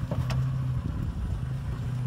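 A truck engine idles at around 600 RPM with no throttle, a steady low rumble holding an even pitch for a couple of seconds at moderate loudness.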